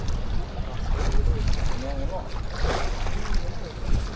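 Strong wind buffets the microphone on the water during ultralight fishing casting, a loud continuous rushing roar with gusts, while people talk over it.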